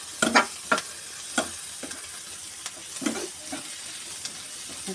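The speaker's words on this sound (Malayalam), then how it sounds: "അപ്പോൾ നിങ്ങൾ അതിനനുസരിച്ച് നല്ലതായിട്ട് ഇളക്കി കൊടുക്കുക" Onions being stirred as they fry in a pan for an egg roast, giving a soft ongoing sizzle broken by several scraping stirs at an irregular rhythm, heard close and moderately quiet with no talking.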